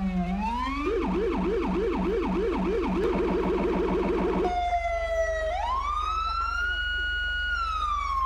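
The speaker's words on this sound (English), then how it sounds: "here's a new siren" In the LSPDFR video game, a police car siren wails in a fast rising-and-falling yelp, then shifts to a slower sweeping tone over a constant deep rumbler throb, loud and close with no talk.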